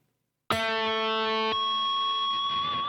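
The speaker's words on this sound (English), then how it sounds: "I'll put a little bit more distortion on." Electric guitar harmonics played through added distortion: a sharp struck chime that rings on, a second pluck about a second later, then a long sustained bright tone that grows stronger, alone without talk.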